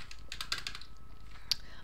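Rapid keyboard typing on a computer keyboard while writing, a quick run of close key clicks followed by a pause and one more sharp keystroke, with no voices.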